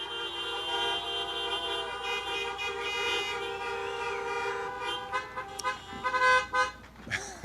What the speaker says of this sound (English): love the creative honking. It's fantastic.